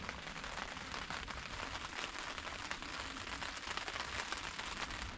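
Rain falls steadily outside the awning of a VW T2 camper van at a wild campsite, a soft, even hiss with fine crackling drops pattering on the surface, fairly faint and without voices.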